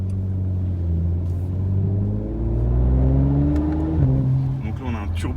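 Audi RS5 turbo engine, 450 horsepower, droning steadily while climbing the Furka Pass road in the Swiss Alps, pitch rising through a gear with a brief shift near the end, loud and continuous.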